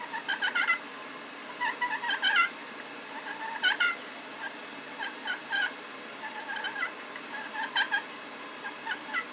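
A hand-held turkey call imitates a hen turkey's soft purr, producing repeated short, trilling chirps in close, evenly spaced bursts over a faint steady background hiss.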